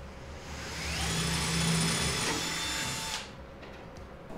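Power drill boring rivet holes in an aircraft tube, a sustained whining drill run of about two seconds that ramps up, holds, then cuts off, with faint clicks after.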